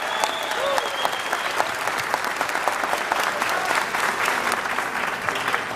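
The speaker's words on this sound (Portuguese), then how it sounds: "Salva de palmas para ela," Steady applause from a ceremony audience at a medal presentation honoring the Farroupilha Merit, dense even clapping sustained throughout, fairly loud and close, with faint voices beneath.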